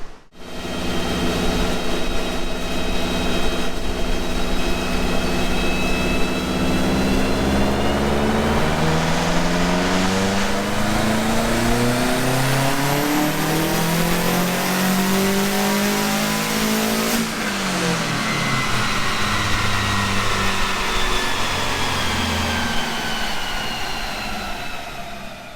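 A car fitted with a Blouch 380XT turbo, running on 93 octane, makes a full dyno tuning pull: one long, loud, sustained engine note climbing steadily in pitch, peaking, then dropping back as the revs fall.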